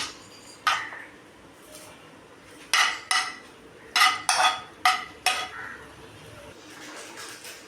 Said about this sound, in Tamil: முருங்கைக்கீரை நல்லா வெந்துட்டு இப்போ அதை ஒரு பாத்திரத்துக்கு மாற்றிக்கலாம்